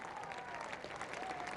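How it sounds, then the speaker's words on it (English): A cricket crowd at the 1981 Ashes first Test gives sustained applause and a standing ovation for Bob Willis's 200th Test wicket, a steady, faint and distant clapping wash. "he's applauded off the field now, a standing ovation for the man who's done well for so many years"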